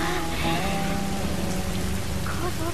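Steady rainstorm in The Last of Us, with dense rain hissing and pattering on surfaces throughout and a low rumble of thunder underneath, loud and continuous with no voices.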